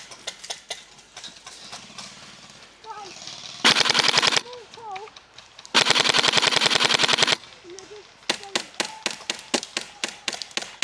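Airsoft guns fire during an outdoor skirmish, with two long sustained full-auto bursts and a later string of rapid single shots, loud and close, while players talk around them.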